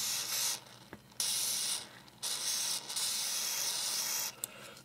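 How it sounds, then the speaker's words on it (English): Silicone oil is sprayed onto a paintball marker O-ring in a few short, quiet hissing bursts separated by brief pauses, heard close up. "spray it down with some silicone oil"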